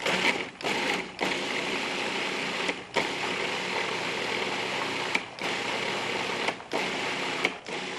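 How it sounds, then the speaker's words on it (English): Countertop blender running steadily on tofu and vanilla, a loud continuous whir with a few brief dips in pitch and level as the blades catch, no talking over it. "We're going to blend this."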